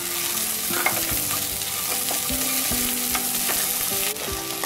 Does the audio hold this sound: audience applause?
no